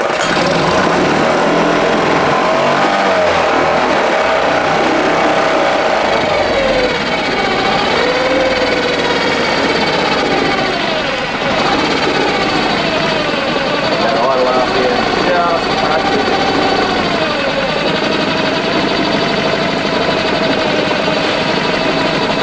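A Yamaha outboard motor runs with the choke off, a close, loud, steady engine drone with wavering pitch that dips and recovers, sustained throughout.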